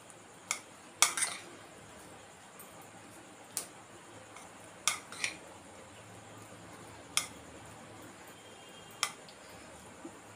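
Pulihora rice is mixed with tempering in a bowl: faint, scattered clicks of a utensil against the bowl, close but quiet, with no voices.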